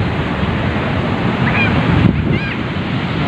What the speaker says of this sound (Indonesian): Tinggi banget ombaknya